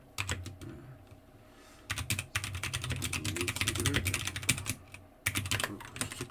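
Steady typing on a computer keyboard, close and crisp, with quick clusters of key clicks separated by brief pauses.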